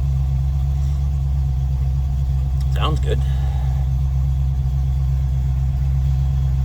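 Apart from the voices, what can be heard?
1993 Land Rover Defender 110 4.2L engine idling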